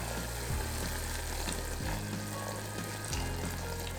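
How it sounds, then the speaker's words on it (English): Rum cake syrup sizzles and bubbles steadily in a pan, a close, continuous frying hiss with faint stirring and no talking. "Sizzling."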